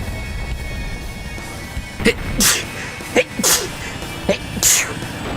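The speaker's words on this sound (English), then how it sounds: "Yeah, I sneezed." A sneeze from a streamer playing the mecha game GunGriffon 2 on a live stream, close to the microphone, as a few short sharp bursts over quiet background noise.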